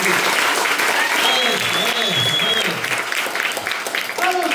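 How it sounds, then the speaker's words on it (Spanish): A lively crowd applauds at a gathering, sustained clapping mixed with cheers and voices, steady and close for the whole stretch. "Regálenle un fuerte aplauso para los que tienen aquí."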